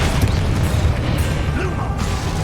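Spell blasts and crashes from combat in the Hogwarts Legacy video game, a dense, steady rumble of low booms and clattering impacts that continues without a break.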